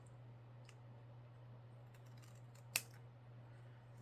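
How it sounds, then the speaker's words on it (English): Scissors trimming an altered playing card, a single crisp snip standing out against a quiet room with a steady low hum and a few faint rustles. "I probably should trim this card just a little bit"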